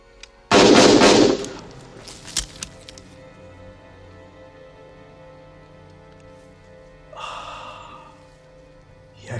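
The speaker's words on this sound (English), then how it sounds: "3 shots to the chest." Gunfire in the 1986 war film Platoon: a loud burst of shots near the start with a few sharp follow-up cracks, then quiet, and a softer noisy swell near the end.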